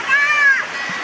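River water rushes steadily below Tillari dam in a Konkan village, a continuous broad roar with a brief voice over it.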